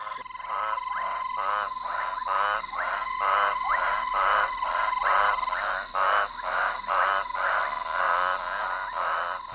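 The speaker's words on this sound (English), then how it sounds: "25 different frog species may call simultaneously from the same area, competing for airtime." Several frog species calling together from one area, a loud, close chorus of rapid pulsed croaks repeating in a steady rhythm over a constant high trilling background.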